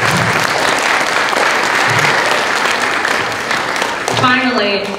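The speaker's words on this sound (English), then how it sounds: "please give a few golf claps or some hearty cheers" Applause and cheering from a school concert audience for middle school students at a winter concert, a dense, steady wash of clapping sustained throughout, with brief voices rising near the end.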